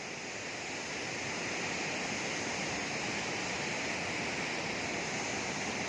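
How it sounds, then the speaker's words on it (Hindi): The fast-flowing Pushpa river in Uttarakhand's Valley of Flowers rushes over a stony bed, a loud, dense, unbroken roar of water heard close by without voices. "फ्लो पानी का बहुत ही ज़्यादा है।"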